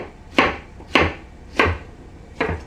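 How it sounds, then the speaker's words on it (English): A knife chops through zucchini on a cutting board in four distinct, evenly spaced thuds, close and crisp with no talking. "I like cutting my zucchini lengthwise in both directions, and then I cut it down."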